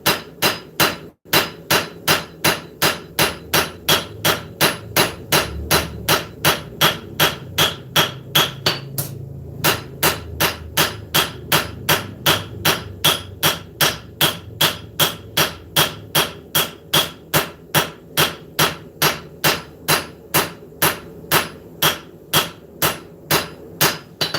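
Hammer blows on hot steel with a straight peen, lengthening a forged knife blade: a long, fast, steady series of loud, ringing metallic strikes, close up, with one brief pause midway and no talk.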